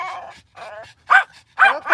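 A puppy inside a Tesla car whimpers and yips in four short, close bursts separated by brief quiet gaps. The later cries are louder and sharper than the earlier ones.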